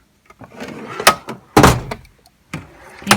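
Stamp pad drawer in a craft room sliding open and shut, several close wooden thunks and sliding rumbles in quick succession, loud and with no voices.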